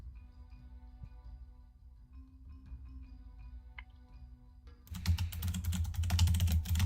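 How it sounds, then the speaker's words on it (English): Rapid keyboard typing during a tabletop D&D session, starting faintly with soft scattered ticks and then breaking into a dense, louder burst of fast key mashing for the final couple of seconds. "It sounded like you're like keyboard mashing into Google."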